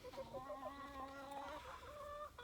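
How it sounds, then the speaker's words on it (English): Chickens cluck and chatter together at close range, with a steady run of overlapping calls and no speech. "Good morning, chickens."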